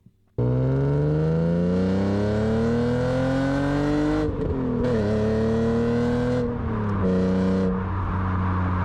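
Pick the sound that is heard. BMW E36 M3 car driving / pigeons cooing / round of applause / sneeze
BMW E36 M3 car driving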